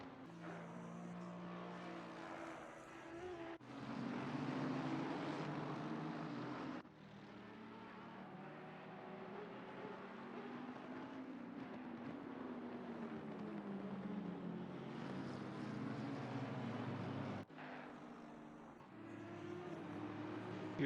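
Race cars including a Porsche 911, a Lamborghini and a Lexus lapping the Nürburgring in a racing video game, engines droning continuously with rising and falling pitch as gears shift, loud and steady with abrupt cuts between cars.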